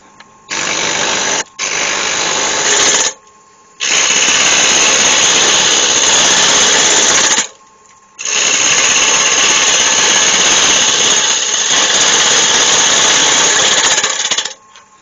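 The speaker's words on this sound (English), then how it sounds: "get that mounted on the lathe" A wood lathe turns a roughly 100 mm square walnut blank, a loud steady motor whine in several long runs separated by short silent pauses, close to the listener.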